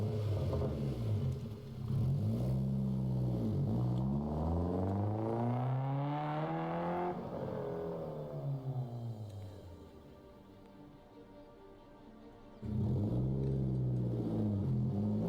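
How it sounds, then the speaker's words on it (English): A race car engine sound effect played back during a game stream, with steady loud engine drone sweeping up and down in pitch like a car passing, fading quieter midway before the roaring engine returns strongly near the end. "Here you go. Race car noise."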